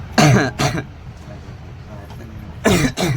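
A person coughs close by in two short bursts, then after a quiet pause in an indoor room coughs twice more, loud and harsh.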